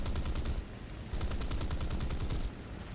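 A Spitfire's 20mm cannons fire in War Thunder: a rapid, loud stream of shots, one burst, a short pause, then a longer second burst, with no talk.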